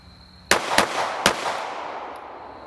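Three loud, close gunshots crack out in quick succession during a timed shooting drill, each sharp report ringing briefly into the outdoor air after a short electronic timer tone.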